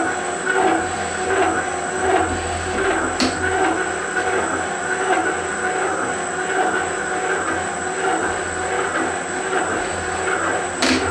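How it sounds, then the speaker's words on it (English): A metal shaper's cutting tool scraping along a workpiece surface, a steady grinding, rumbling drone with faint rhythmic ticks and a couple of sharp clicks, continuous and fairly loud, no voices. "As you can see, I'm just scraping along the surface of my workpiece."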